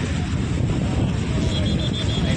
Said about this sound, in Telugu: గాలి మాత్రం విపరీతంగా ఉంది